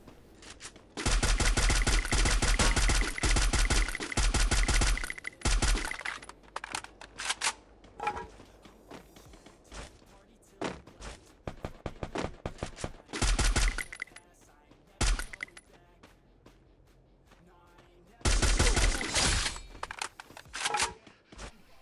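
Heavy bursts of rapid automatic gunfire from AK and P90 rifles in the Free Fire video game, a long burst at the start, scattered shorter volleys and single shots in the middle, and another loud burst near the end.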